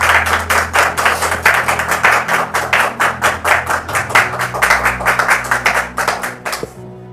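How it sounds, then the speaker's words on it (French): A studio audience on a French reconciliation talk show breaks into loud, rhythmic clapping, a close, dense run of hand claps that carries on evenly for several seconds before cutting off abruptly. "Sous vos applaudissements."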